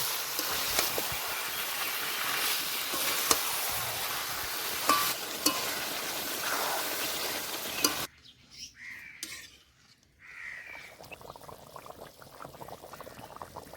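Marinated chicken stir-fried for a village-style curry with ground spice paste sizzles loudly and evenly for several seconds, with stirring scrapes. The sizzle then cuts away to a quieter stretch of scattered utensil clinks and soft pan noises.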